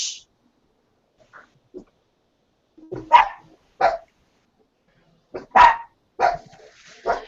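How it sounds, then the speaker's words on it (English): A sleeping-then-alert dog barks in short, sharp bursts, a few isolated woofs building into a quicker cluster of loud, close barks in an otherwise quiet room. "she thinks she hears something and she starts barking, gets the other one going"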